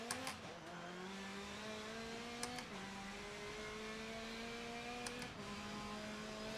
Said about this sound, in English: And I like the sound of this car.